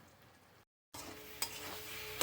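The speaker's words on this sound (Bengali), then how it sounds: "এটাকে এইভাবে নেড়ে নেড়ে মিশিয়ে নেব।" Sweet, sour and spicy chili pickle mixture with fried chili powder and slit green chilies being stirred in a frying pan, soft scraping and steady sizzle after a brief silent gap, close and quiet.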